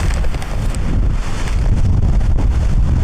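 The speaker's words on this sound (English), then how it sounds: "it's windy as anything up here" Strong wind roars steadily against the microphone on the Quilotoa Loop hike, a constant heavy rumble with gusty buffeting and no voices throughout.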